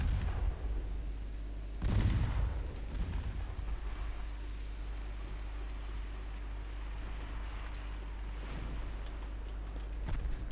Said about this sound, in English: Beijing is taking fire. Beijing is taking torpedoes.